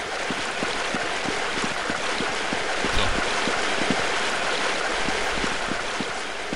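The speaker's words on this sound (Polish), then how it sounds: "Jestem przy jakimś wodospadzie" A waterfall in Counter-Strike 1.6 pours in a steady, loud, unbroken rush of water with no voices over it, and a faint regular ticking runs through the roar.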